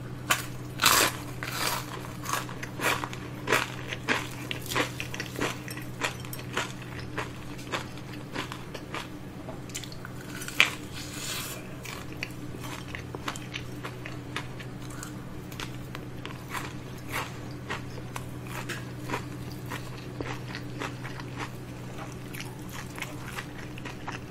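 Crispy fried chicken, half plain and half sauced, bitten and chewed up close, with a series of sharp crunches and crackly chews repeating irregularly over a quiet, steady background hum.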